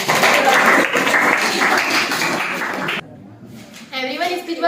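Audience applause at a school speech event for ninth-class students: thick, fast clapping mixed with voices rises loudly for about three seconds, cuts off abruptly, then a single voice speaks.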